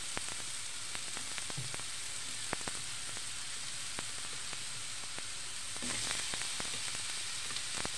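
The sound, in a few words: red onion frying and sizzling in a pan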